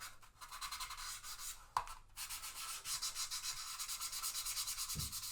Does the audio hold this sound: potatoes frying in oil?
no